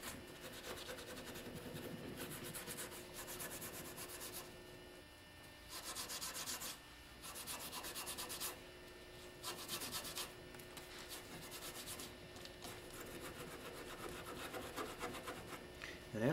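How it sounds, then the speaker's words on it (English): Scotch-Brite pad scrubbing freshly stripped wood during final cleaning after Star 10 paint stripper, a steady abrasive rubbing in bursts of strokes with brief pauses, close and moderately loud with no talking. "Final cleaning with a Scotch-Brite pad."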